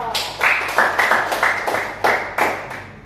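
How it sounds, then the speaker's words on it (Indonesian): A small classroom group claps for a student during a microteaching lesson: about ten sharp, slightly uneven claps, close and clear, with no talking. "Tepuk tangan buat Satrio"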